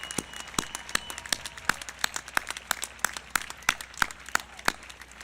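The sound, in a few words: graduation audience applause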